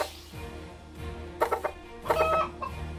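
Chicken boss clucking in the turn-based tactical mobile game Zold: Out, several short squawky bursts over a game soundtrack.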